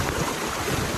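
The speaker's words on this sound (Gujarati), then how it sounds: "રોડ ઉપર એટલું પાણી જાય છે" Floodwater rushes over a road during rain on the way from Surat to Lonavala, a steady, loud, broadband rushing wash that fills the whole brief moment.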